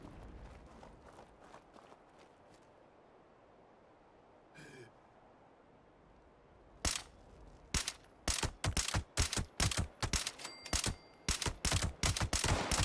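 Gunfire in the video game Fallout 76 opens after quiet footsteps, a rapid series of loud, sharp shots in irregular bursts toward the end, heard up close.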